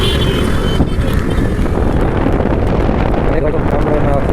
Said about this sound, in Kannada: ಮಳೆ ಜೋರಾಯ್ತಲ್ಲ ಗುರು.